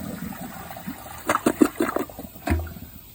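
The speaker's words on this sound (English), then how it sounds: "Oh wow, the washcloth passed through with a small flush." A Project Source Pro toilet, new 2023 model, gives a small flush outdoors: a brief gurgling burst of rushing water, then a short drain.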